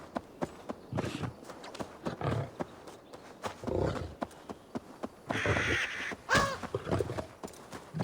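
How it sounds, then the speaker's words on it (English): Crows caw several times in Assassin's Creed Valhalla, harsh repeated calls that rise and fall across the scene, mixed with hoof clip-clop and other game sounds at moderate loudness. "Apparently we just hit a bird."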